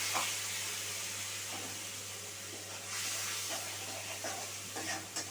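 Ginger, green chilli and cumin paste sizzling in hot oil in a pan, a continuous steady hiss with soft stirring scrapes, close and moderately loud.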